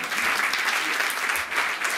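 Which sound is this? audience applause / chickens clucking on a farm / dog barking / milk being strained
audience applause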